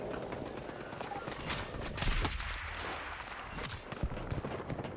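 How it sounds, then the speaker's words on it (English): Sniper rifle fire cracks in Battlefield 6 Breakthrough mode, sharp shots ringing out among other battlefield gunfire and mechanical clatter. "Hitting a lot of shots with this sniper"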